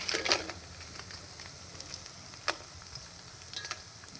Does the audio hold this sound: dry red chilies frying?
yes